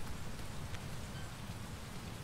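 Steady rain in the Teardown video game, a constant dense hiss of drops falling without pause, with no talk over it.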